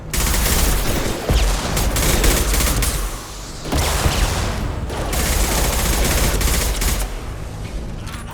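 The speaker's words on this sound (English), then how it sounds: "Firing concussive shot!" Loud, continuous gunfight in the video game Mass Effect on Omega, with rapid weapon fire and booming concussive shots. Brief dips in the firing around the third and fifth seconds, and no talk.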